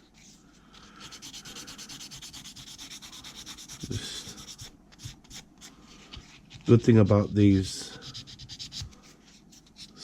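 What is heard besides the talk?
sanding sponge rubbing model figure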